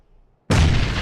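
A grenade detonates in PUBG, a sudden loud blast after near silence that breaks into a sustained roaring, crackling rumble that holds through to the end.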